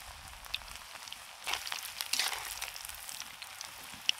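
Chicken pakora deep-frying in a pot of hot oil gives a steady crackling sizzle that swells louder for about a second midway, then settles back to a soft, even hiss.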